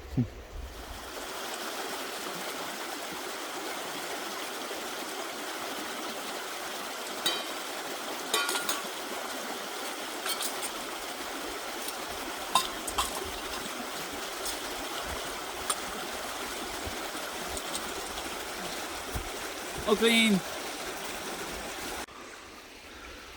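A river flows steadily in a soft, continuous rush, heard from a distance at a campsite, with a brief spoken remark and a few small knocks partway through.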